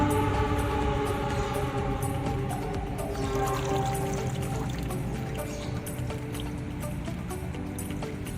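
Water is poured steadily onto compacted soil in a plant pot, making a continuous splashing, trickling wash with small drips, close and moderately loud with no voices.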